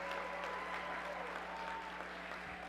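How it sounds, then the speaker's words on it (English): Audience applauding Michigan Governor Gretchen Whitmer at the Texas Democratic Convention general session in El Paso, a steady, moderately distant wash of clapping that holds evenly without a break. "let's just give her a round of applause for coming out from Michigan"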